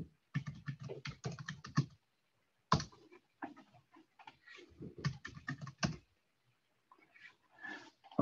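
Typing on a computer keyboard while logging into the Discovery computing system, with bursts of quick close key clicks separated by short pauses and no talking.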